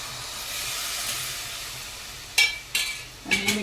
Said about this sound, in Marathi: आता बघा याच्यामध्ये हे वाटाणे मी घालून घेते